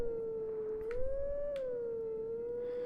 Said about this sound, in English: So, we howl once more.